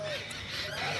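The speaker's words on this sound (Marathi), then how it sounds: "छोटे छोटे पक्षी आहेत जे आवाज येतात मला" Small birds call from nearby trees at Sinhagad fort, faint chirps mixed into a steady outdoor hiss.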